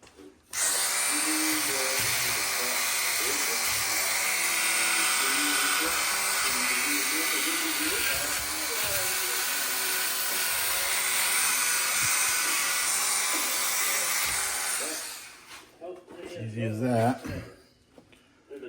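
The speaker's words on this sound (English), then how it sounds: "Now I'll take the Dremel and I'll clean that up too." Dremel rotary tool cleaning up a part on a Polaris Magnum 500 ATV, a loud steady high-pitched whine running for about fifteen seconds before spinning down, followed by brief talk.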